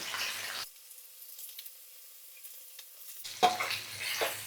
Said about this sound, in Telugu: ఒకవైపు వేగాక ఇలా తిప్పుకొని రెండో వైపు కూడా వేయించుకోవాలి.